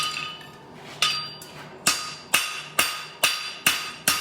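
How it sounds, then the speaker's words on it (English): A hammer strikes a horseshoe on a metal surface in sharp, ringing blows, first spaced irregularly and then falling into a steady rhythm of evenly timed hits, close and loud. "giving a good hammer boxing"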